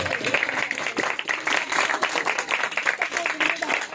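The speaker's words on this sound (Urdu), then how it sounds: "آئیے روح القدس کے لیے زوردار تالیاں۔" Church congregation applauding together at a New Year service, a dense, steady wash of clapping with lively voices and cheers mixed in throughout.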